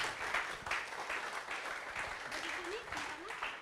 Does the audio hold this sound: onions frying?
no